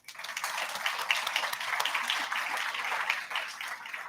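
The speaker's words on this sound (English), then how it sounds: "please give her a round of applause" An event audience applauds a speaker being introduced at a World Food Day gathering, a soft, dense patter of many hands swelling in quickly and holding steady at moderate distance.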